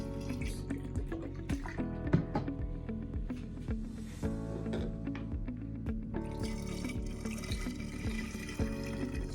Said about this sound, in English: I'm going to use a funnel to get the vodka into the bottle, and I just pour it in.